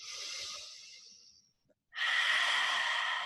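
Two breaths during breath work: a long airy breath fades out, a short pause follows, then a strong, close exhale through the mouth rushes out steadily.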